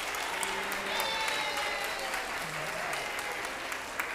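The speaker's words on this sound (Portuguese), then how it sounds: "Acho que a gente podia aplaudir o deputado Flávio Serafini." An audience applauds steadily at a formal solemn session of a state legislative assembly, a dense, even patter of clapping that fills the whole stretch without a break.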